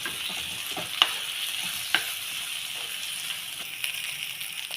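Green chillies sauté in a pan with a steady low sizzle and two sharp clicks of a spoon against the pan, close and even throughout.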